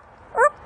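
A parrot imitates a dog's bark: one short, clear bark-like yelp, close and alone against a quiet background.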